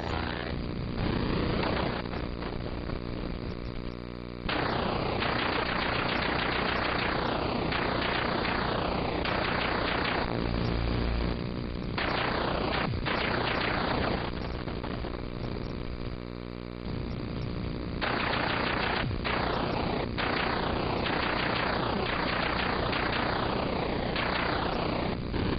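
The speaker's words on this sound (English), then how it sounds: "Here's me playing Defender 2." Gameplay from the Defender 2 arcade game in a Williams Arcade's Greatest Hits collection, a continuous loud electronic roar with pulsing laser zaps and sweeping tones throughout, no speech.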